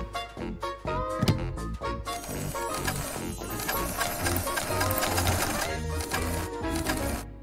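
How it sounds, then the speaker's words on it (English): Close sewing machine stitching doll pajamas, rapid mechanical chatter in short starts and stops at first, then a longer steady run of stitching. "Wow, Sue, you're so good with the sewing machine!"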